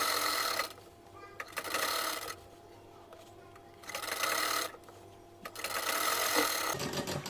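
Sewing machine stitching a sleeve onto a kurti, three close bursts of rapid mechanical whirring separated by short pauses, with brief quiet talk in between.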